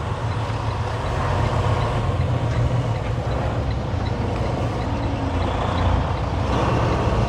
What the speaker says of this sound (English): let's back this trailer up real quick